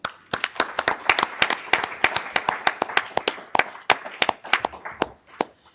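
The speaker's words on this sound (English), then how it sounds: "So let's just give them a round of applause." A small audience at a school event applauds, with clearly separate hand claps in an uneven rhythm, moderately loud and close, thinning out toward the end.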